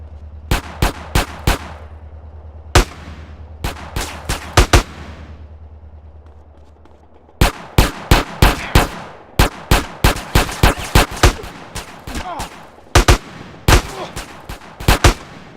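Gunfire in a gang turf war in the video game GTA San Andreas: loud, sharp shots in rapid bursts, with a brief lull midway and then denser volleys of closely spaced cracks.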